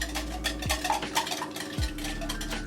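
Quiche filling seasoned with salt and pepper being whisked briskly in a bowl, a continuous close clatter and swish of the whisk against the sides, with a low steady hum underneath.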